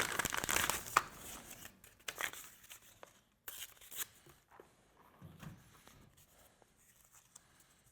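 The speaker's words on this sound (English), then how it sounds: "I'm also going to put a little tape on here so that I don't mar up this barrel nut either" Tape is pulled and wrapped around the barrel nut of a Remington 700 rifle, with close, quiet crinkling and tearing rasps in irregular bursts, strongest at the start and then fading into softer handling noises.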